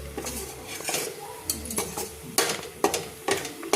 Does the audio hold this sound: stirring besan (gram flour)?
yes